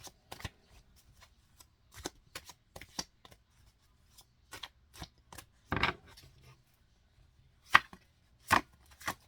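Tarot deck being cut and handled: a series of short, sharp papery snaps and slides at irregular intervals, close and crisp, in a quiet room with no talking.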